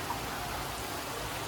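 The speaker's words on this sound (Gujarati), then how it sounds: "કડીમાં જોરદાર વરસાદ ચાલુ થઈ ગયો છે" Heavy first monsoon rain falls outdoors in Kadi, a continuous dense wash of drops pattering on surfaces at an even, moderate level with no voices.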